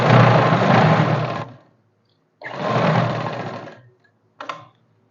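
Sewing machine stitching a salwar hem, running in two steady buzzing bursts of about a second and a half each, separated by a pause, with a brief final whir at the end.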